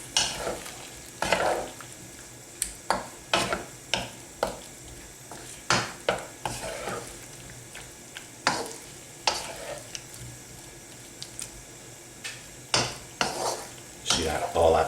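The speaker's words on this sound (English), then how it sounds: "So we'll just give all that a stir in and give all that a good coating of all that lovely flavour." Paneer curry being stirred in a pan, with repeated sharp spoon knocks and scrapes against the metal over a soft frying sizzle, close and steady throughout, with no talking.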